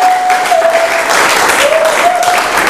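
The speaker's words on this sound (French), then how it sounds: "Acclamons encore pour l'Éternel, notre Dieu." A church congregation applauding: dense, loud clapping from many hands that holds steady throughout, with a sustained sung or organ-like tone running underneath.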